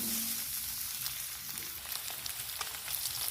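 Soybeans fry in hot oil in a kadai with a soft, continuous sizzle and scattered light crackles, fairly quiet and with no voices.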